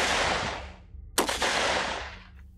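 A sharp gunshot from an execution by firing squad cracks out, followed by a short echoing rattle of further shots that fades over a fading noisy background.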